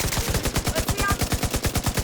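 Rapid automatic gunfire from The Division 2 video game, a steady stream of close, loud shots in a fast even rhythm for the whole stretch.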